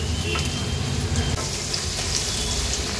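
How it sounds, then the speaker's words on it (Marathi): Ginger garlic paste frying in oil gives a steady, close, hissing sizzle with faint crackles and occasional stirring, and no talk over it. "आलं लसूण पेस्ट असो किंवा क्रश असो कधी पण तेलावरच छान परतून घ्यायचंय"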